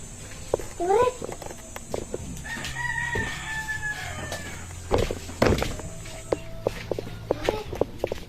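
A rooster crows nearby, followed by chicken clucks, scuffling footsteps and sharp knocks, with people talking in the background.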